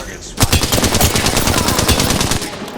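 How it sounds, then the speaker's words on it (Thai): Sustained automatic gunfire rattles in the video game Apex Legends, a loud rapid burst of close shots running continuously for a couple of seconds after a brief quieter lead-in. "มีคนยิงกู"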